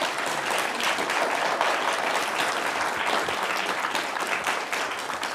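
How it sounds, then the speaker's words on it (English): A conference audience applauds the speakers after a panel discussion, with steady, dense clapping filling the room at moderate distance for several seconds. "Let's everyone give a round of applause to our speakers."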